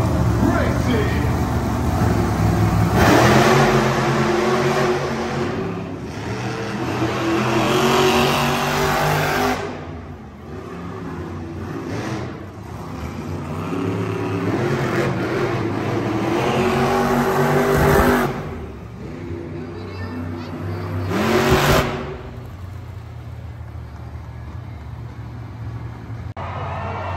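Monster Jam trucks in an arena in Tucson, Arizona, revving their engines at a race start, a heavy, droning roar that rises and falls, with loud amplified commentary over it and a brief lull near the end.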